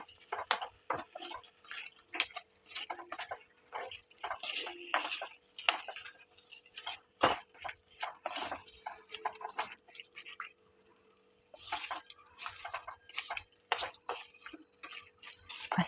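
Spoon scraping and clinking in a pan while thick beef perattu masala is stirred down into a paste, irregular close taps and scrapes with wet, sticky sounds and a brief pause midway.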